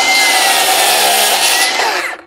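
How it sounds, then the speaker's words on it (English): Timber being cut for a joist with a saw, marked out using a speed square; a steady, loud continuous rasping cut runs close up for about two seconds, then trails off. "I'll put a cut in the timber"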